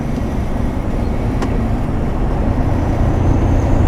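A Volvo F16 intercooler truck runs at full throttle in sixth gear with a loud, steady, deep engine drone and road roar heard from inside the cab, with no pauses.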